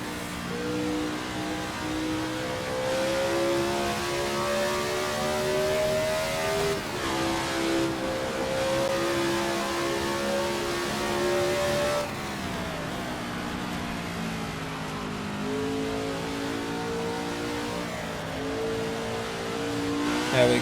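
Engine of a 1967 racing car from a South African Grand Prix driving game revs steadily, its pitch climbing through the gears and dropping at shifts, with faint tyre noise and no talking.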